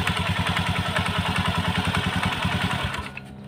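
A Honda Beat ESP scooter revs with a worn CVT, producing a loud, close, rapid rhythmic crackling clatter over the engine drone before the revs drop off near the end.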